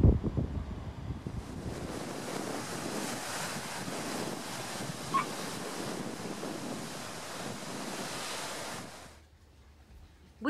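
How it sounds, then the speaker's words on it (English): Dramatic Atlantic waves surging into natural rock swimming pools on El Hierro, a steady roaring wash of surf with heavy wind buffeting the microphone, continuous and fairly loud before dropping away near the end. "The natural swimming pools show some dramatic waves."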